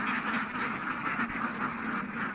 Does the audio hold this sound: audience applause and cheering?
no